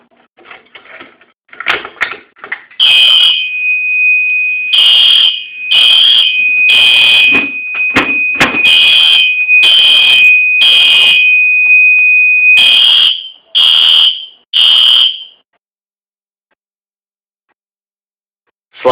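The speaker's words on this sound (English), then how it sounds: "let's just go ahead and do a simulation of a fire alarm" A Fire-Lite MS-2 fire alarm control panel sounds its alarm in a simulated fire test, a loud shrill tone pulsing in a rapid regular on-off pattern, holding steady for a stretch before a few final bursts and then silence.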